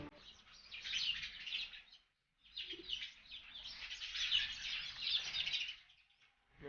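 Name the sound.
sparrows chirping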